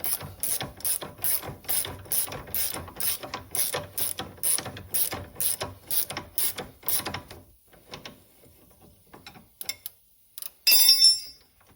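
A 15 ratchet wrench loosens a nut on the rear wheel of a 2024 CFMOTO ZFORCE 950, with rapid regular clicking for about seven seconds, then sparse handling clatter and a brief metallic rattle.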